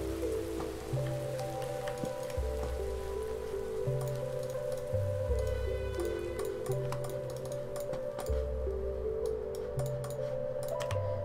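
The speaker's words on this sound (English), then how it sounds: "It's raining again?!" Rain falls steadily in a modded survival video game, a constant patter with clicking ticks. Looping game music with low tones runs underneath it, and no one talks.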